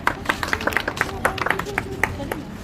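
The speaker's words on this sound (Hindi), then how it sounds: "ताली हो जाए।" A small group claps for a top-scoring student in a Bihar Police exam class, a short scattered burst of individual claps, close and uneven, with a voice talking over part of it.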